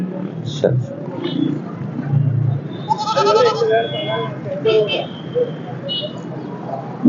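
A ten-day-old goat kid bleats in a few short, high calls while people talk nearby, the animal's voice rising over the conversation at moments.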